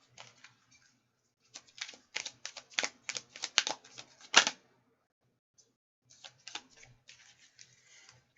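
Rapid riffling clicks of playing cards being shuffled in quick bursts, close up, with a pause before a softer second run of flicks.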